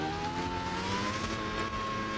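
A Ducati Panigale SP2 motorcycle engine in a driving video game holds a loud, steady high rev with a slowly rising pitch that continues without a break.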